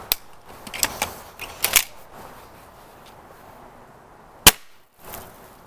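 A Gamo Swarm Maxxim multi-shot air rifle fires a .22 pellet weighing 14.66 grains, producing one sharp, close crack amid a few lighter mechanical clicks and taps in a quiet setting.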